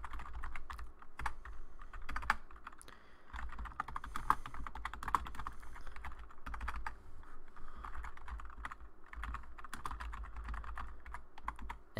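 Keys clatter on a computer keyboard as a banner message is entered during switch configuration, a quick irregular run of close, soft clicks over a faint low hum.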